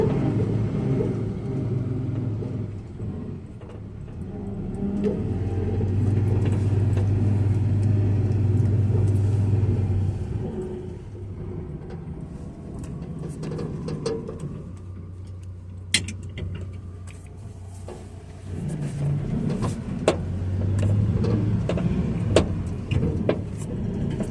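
An old square-body farm truck drives along with its engine running, a steady low rumble that swells and eases as it moves, with small interior rattles and ticks and no talk.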